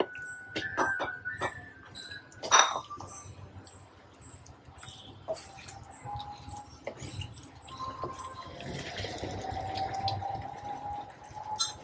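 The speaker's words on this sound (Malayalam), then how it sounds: "ഇതിലേക്ക് ആവശ്യത്തിന് വെള്ളം ഒഴിച്ചു കൊടുക്കുക" Water being poured into a pan of butter chicken after the chicken has been stirred in, a steady splashing pour with a sizzle at moderate loudness, with clinks of utensils in the kitchen.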